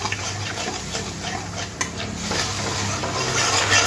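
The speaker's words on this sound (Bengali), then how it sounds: "অল্প একটু হলুদ গুঁড়ো, অল্প করে একটু লঙ্কার গুঁড়ো আর একটু জল দিয়ে দেবো। দিয়ে ভালো করে মিশিয়ে নেব।" Turmeric, chilli powder and water being stirred together in a pan, a steady wet scraping and soft sizzle with a few light utensil clinks, close and fairly loud with no voices.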